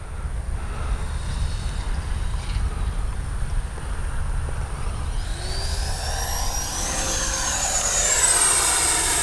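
An XFLY F-35 RC model jet flies on its maiden and speed-trial flight. Steady outdoor rumble gives way to a rising, high-pitched turbine whine that grows louder as the jet sweeps closer, with no talking.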